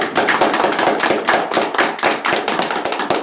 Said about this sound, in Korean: 뭐 말로 하는 것보다는 큰 박수 한번 해봅시다